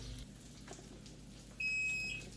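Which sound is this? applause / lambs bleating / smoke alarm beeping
smoke alarm beeping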